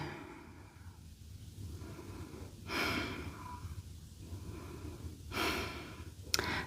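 Slow, soft breaths during a hatha yoga backbend, two audible exhales a few seconds apart, close and quiet over a low room hum.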